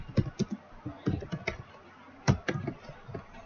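Close computer keyboard typing while coding HTML, irregular bursts of clicky keystrokes with short pauses between, quiet and alone without talk.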